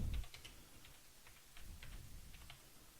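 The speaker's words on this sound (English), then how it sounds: "I'm typing with one hand." Someone types on a computer keyboard with one hand while tracing buildings in a map editor: sparse, uneven key clicks, soft and close, with a faint low rumble in the background.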